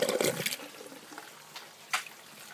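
An aquaponics bell siphon drains the grow bed, giving a gurgling, sucking rush of water that fades to a faint trickle with a brief slurp near the end, heard close up.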